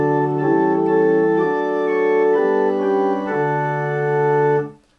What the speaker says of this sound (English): The first family is the principal or diapason sound. It's the typical organ sound.